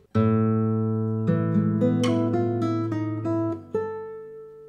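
Plucked classical guitar notes ring out alone, a low bass tone sounding first and then cut off while higher notes continue, ending on a sustained chord.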